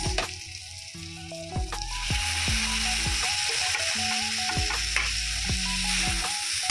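Tomatoes tipped into a pan of two medium onions already fried translucent, setting off a loud, steady sizzle with repeated clinks and scrapes of a spoon stirring against the pan, no voices.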